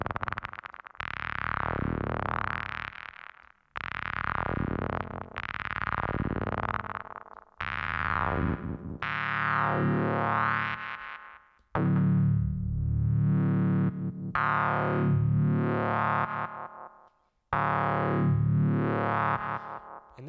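A squishy, squelchy psydub synth patch built from a basic saw wave in Serum plays a run of long sustained notes with sweeping, wobbling filter movement, distorted and resonant, with brief gaps between phrases and no voices.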